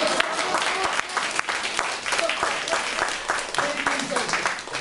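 Audience applause at a Japanese talk event, a steady dense wash of clapping from a crowd filling the whole stretch, fairly loud and continuous.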